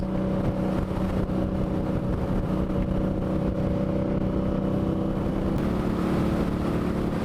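An Indian motorcycle engine runs steadily at high revs above 4,500 RPM, a constant droning hum with strong buzzing tones and vibration, close and loud throughout.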